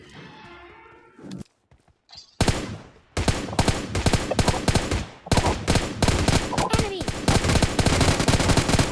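Gunfire sprays in PUBG Mobile Lite, a mobile battle royale game, with loud, close, sustained automatic bursts that rattle on for several seconds after a few quieter game sounds and short single shots.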